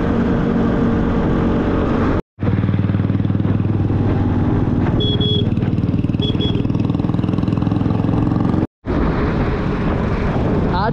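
A scooter ridden along a winding road from Guwahati to Tezpur in autumn, its engine and rushing wind making a steady, loud drone that runs nearly without a break, with two brief dropouts.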